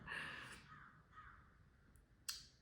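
Two or three harsh caws from crows at a moderate distance, spaced apart, with a quiet outdoor background.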